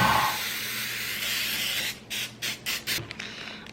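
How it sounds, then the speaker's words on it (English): Cooking spray hisses from an aerosol can into a 9x13 baking dish, first a long continuous spray, then four short quick bursts, close and clear. "I would spray it with some cooking spray so that way nothing sticks to it"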